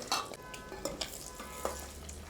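Eggs frying in hot oil in a pan for a gongura egg curry, a steady close sizzle with a few sharp scraping stirs of a utensil against the pan.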